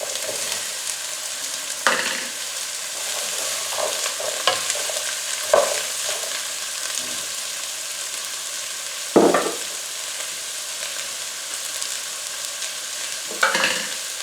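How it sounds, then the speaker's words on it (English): Chopped onions and celery frying in hot oil in a saucepan, with a steady bright sizzle broken by occasional sharp scrapes and knocks of a spoon stirring, close and alone. "So I've heated the oil in the pan, and we're just going to add our onions"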